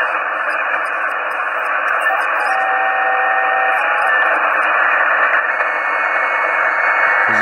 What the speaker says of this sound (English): There's a beacon on this frequency